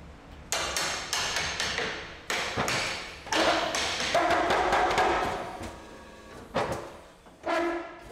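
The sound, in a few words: bending mechanism tightening oak barrel staves in a cooperage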